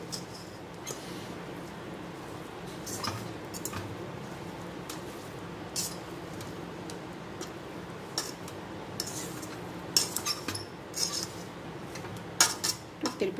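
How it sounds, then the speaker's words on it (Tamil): A spoon clinks and scrapes against a pot as biryani with lemon juice is stirred, the metallic taps coming irregularly and getting busier toward the end. "கிண்டி விட்டுருவோம்"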